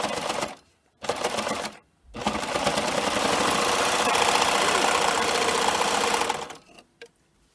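Serger stitching the side seam of a zippered bag, starting in two short bursts and then settling into a steady, close, rapid mechanical whir before stopping.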